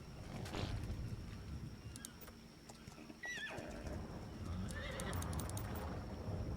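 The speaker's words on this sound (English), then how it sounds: "Battle horse that lives forever" A horse in a video game whinnies in loud, sharp neighs, with clip-clopping hooves and ambient game sounds running underneath throughout.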